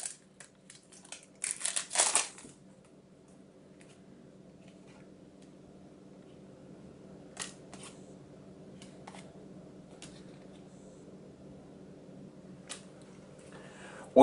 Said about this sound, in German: Davon mache ich jetzt mal eine weitere Tüte auf.